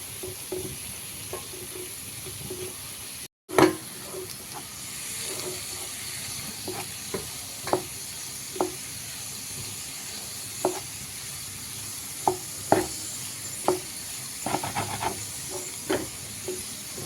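Potato fry sizzling and hissing steadily in a hot pan for the full stretch, broken by scattered scrapes and clicks of a spatula stirring it, with one brief dropout near the start.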